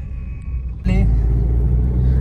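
Road traffic jam with cars backed up on the route toward Karjat, heard as a loud, steady low rumble of idling and creeping vehicles that jumps up suddenly and holds close and continuous.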